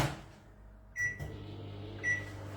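A microwave oven hums quietly while running, with two short beeps or clicks standing out briefly above the low steady drone, no voices heard.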